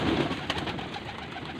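Pigeons coo at feeding time in Faisalabad, with soft, repeated, close-up cooing over a busy background of flapping and shuffling.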